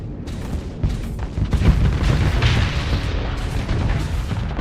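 An artillery frigate firing in the space combat game Starsector, heavy booming blasts and rumbling explosions rolling one into the next at close range, loud and dense throughout.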